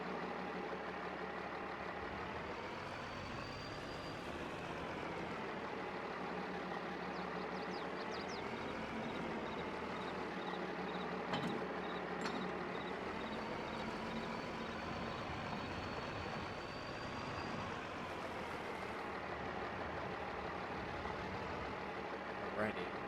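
A truck idles on a dairy farm in Westby, Wisconsin, its engine a steady low drone running continuously beneath someone talking, with a few faint clanks and a brief high whine partway through.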